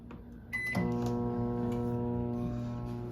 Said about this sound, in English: Put a minute on the microwave.